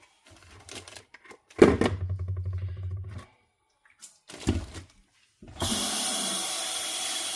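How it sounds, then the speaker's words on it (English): Running water pours from a tap into a pot, starting and stopping in short bursts with clinks and handling sounds before a steady stream at the end. "So we want to get our water here."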